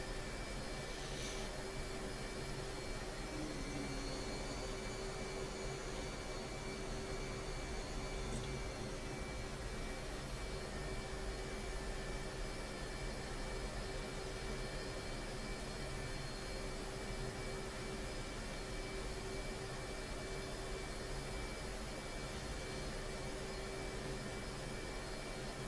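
A steady, drone-like jet engine whine from an F-15E taxiing in the DCS flight simulator holds at an even level for the whole stretch, with a thin high tone running over the roar.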